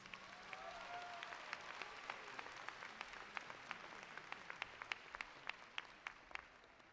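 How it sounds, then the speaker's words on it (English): Applause from a commencement ceremony audience fills a large hall with dense, moderate clapping. Sharper individual claps stand out toward the end, and no one speaks. "Please join me in giving the Johnson family a warm round of applause."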